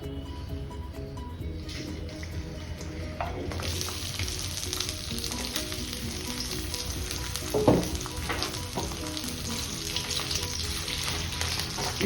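Dry fish frying in hot oil for a beans and dry fish curry, a steady dense sizzle with crackling and occasional stirring clinks throughout.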